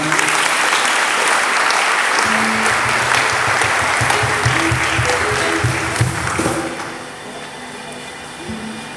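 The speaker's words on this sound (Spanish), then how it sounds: "Un aplauso para mi hermana" Loud congregation applause during a dawn Mass with a birthday blessing, dense clapping and crowd noise with music underneath, fading somewhat toward the end.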